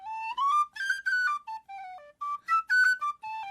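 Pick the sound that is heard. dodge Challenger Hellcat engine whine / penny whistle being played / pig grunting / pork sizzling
penny whistle being played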